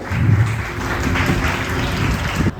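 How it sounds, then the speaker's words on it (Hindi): Audience applause welcoming a guest at a foundation's cultural event, a steady wash of many hands clapping throughout, fairly loud and continuous with a faint low voice or hum underneath. "एक बार जोरदार तालियों से स्वागत देवेंद्र सर जी को"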